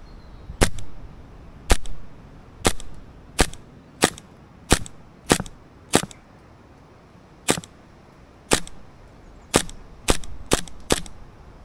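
Novritsch SSQ22 airsoft pistol fired over a chronograph, about fifteen sharp close snapping shots at irregular intervals, some spaced a second apart and others in quicker runs.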